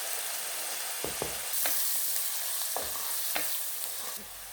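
Onions sautéing in a pan: a steady, close broadband sizzle runs throughout, broken by a handful of sharp spatula scrapes and taps, with no voices.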